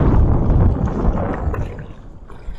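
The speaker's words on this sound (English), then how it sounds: "the wind is really not making the place I want to fish easy to fish. It's blowing right out of the south." Wind blowing out of the south across Lake Concordia during rowing, a loud rumbling buffet against the microphone with gurgling water noise, easing slightly toward the end.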